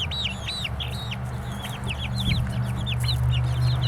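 Chickens of the same age and kind clucking in a run, several birds giving repeated close, bright calls over a low steady background hum, with no talk.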